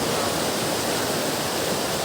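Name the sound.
waterfall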